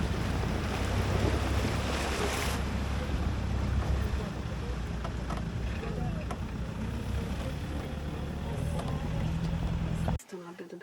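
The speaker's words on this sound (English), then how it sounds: "The water might bounce off the side, but just hold on and splash." River water splashes and rushes against the hull of a boat in a continuous, loud wash with wind buffeting the microphone and a voice talking over it, cutting off abruptly near the end.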